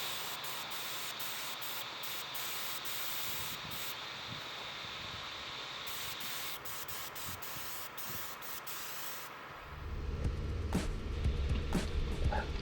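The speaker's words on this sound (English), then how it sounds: "With the airbrush as a tool, I have control over how much paint I apply." An airbrush sprays paint onto a brick wall in a steady, soft hiss that runs for several seconds with brief breaks, then gives way to a louder low rumble near the end.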